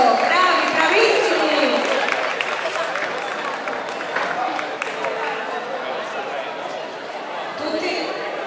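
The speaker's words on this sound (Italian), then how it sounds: "Facciamoci un applauso a tutti noi, all'organizzatrice, un grande applauso." Crowd applause in a town square at an outdoor dance event in Campli, a dense wash of clapping that gradually thins, with a voice talking over it throughout.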